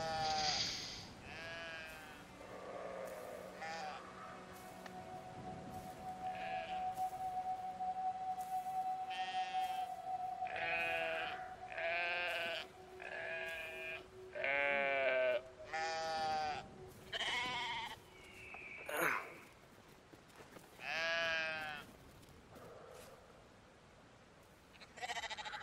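Repeated sheep bleats in the video game Brothers: A Tale of Two Sons, wavering and nasal, come in bursts one after another over a steady low droning tone and soft background noise.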